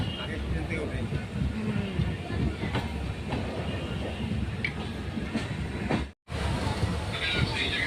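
Steady rumbling and rattling of a moving train fills the background, heard from inside a carriage, with faint voices and occasional clacks.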